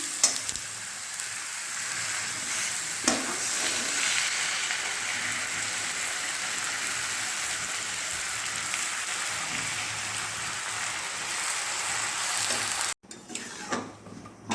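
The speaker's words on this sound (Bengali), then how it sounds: "খুব ভালোভাবে গুড়ের মধ্যে আমটা ভালোভাবে ফুটে যাক" Mango pieces cooking in sugarcane jaggery in a pan, a steady close bubbling sizzle that carries on evenly, briefly broken by a clatter near the end.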